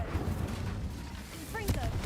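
Incendio fire spell cast in the video game Hogwarts Legacy: a brief burst of dense, crackling game noise with a few rising magical chirps near the end, all amid a busy mix of other game sounds.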